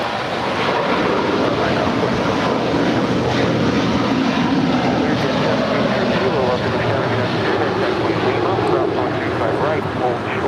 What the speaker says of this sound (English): That was Qatar 742 departing to Doha.